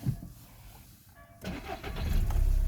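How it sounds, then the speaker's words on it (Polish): A 2008 Skoda Octavia Elegance with a 1.6 MPI 102 hp petrol engine sits quiet briefly, then the starter cranks and the engine catches at about the midpoint, settling into a steady, fairly close idle. "Odpalimy sobie samochód."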